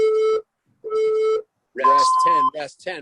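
Two long, loud electronic interval-timer beeps during a burpee workout, evenly spaced, followed by a voice talking over another tone.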